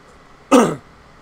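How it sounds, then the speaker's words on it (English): A single short, loud cough with a throat-clearing rasp, sharp and close, bursting out of quiet background during a spoken gaming commentary. "Excuse me again for the cough."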